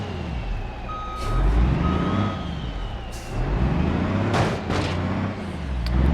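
A flipper truck in the BeamNG Drive video game shoves a wrecked car, a low engine rumble surging and easing under a steady reversing beep, with a few sharp clanks of metal near the end.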